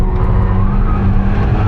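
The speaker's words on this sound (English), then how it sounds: "Gonna be lots of wheel spin" A tuned VW Polo GTI at the Nürburgring spins its wheels under power, a loud close engine roar with tire noise running steadily throughout.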